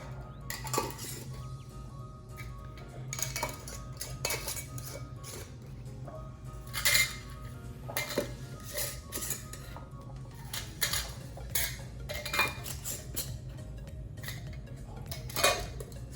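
Metal lids and rings clinking as they are screwed finger tight onto glass canning jars of chicken, irregular close taps and chinks over a low background hum.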